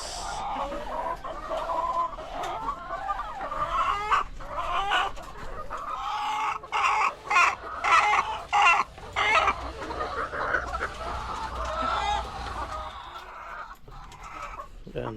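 Chickens cluck and murmur steadily around poultry feed, with an occasional distant crow rising among the flock, while a person talks faintly in the background.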